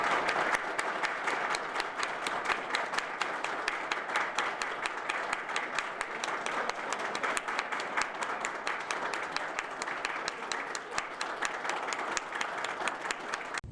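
Sustained applause from a large crowd welcoming Prime Minister Ariel Henry's delegation in Chile, a dense steady patter of many hands clapping at moderate distance for the whole stretch, with faint voices beneath.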